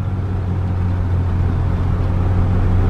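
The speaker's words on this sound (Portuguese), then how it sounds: "O motor tá dando uma sentada, tá perdendo a força do motor." Low, droning car engine straining and losing power while climbing a long steep mountain road in Venezuela, a steady rumbling hum heard from inside the vehicle with no talking.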